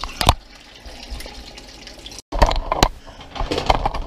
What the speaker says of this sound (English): Now we're going to put some water in our crawfish pot.